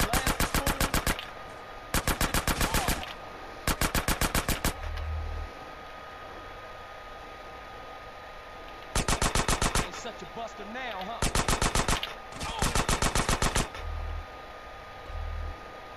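Bursts of automatic gunfire in GTA San Andreas Definitive Edition, six loud rapid-fire volleys of about a second each, separated by short gaps with quieter game ambience and a voice talking between them.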